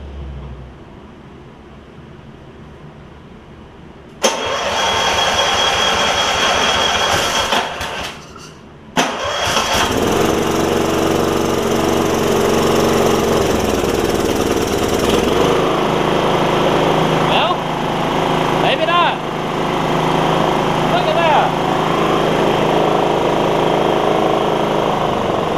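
A 9hp Kawasaki engine fitted to a John Deere RX75 riding mower cranks and fires, then settles into a loud, steady running drone that holds for the rest of the stretch, with a brief stumble early on.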